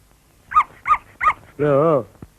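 A dog gives three short, sharp barks in a Tamil comedy film scene, followed by a longer, drawn-out whining howl, all close and loud.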